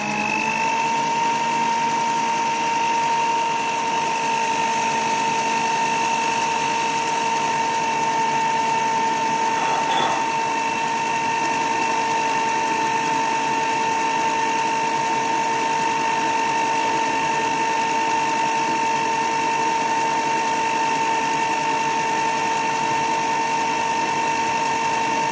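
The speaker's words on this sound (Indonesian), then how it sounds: "Untuk kuning telur ini mixernya 3 menit aja ya." An electric mixer beats egg yolks for a Bangka lapis legit layer cake, a steady, close, continuous whirring motor hum at medium speed that holds unchanged from start to finish, with no voices.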